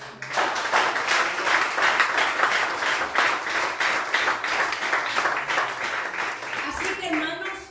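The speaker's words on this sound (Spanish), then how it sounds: "Denle un aplauso." Congregation at a Spanish-language church service clapping together in sustained applause, a dense, steady wash of many hands from start to finish without a break.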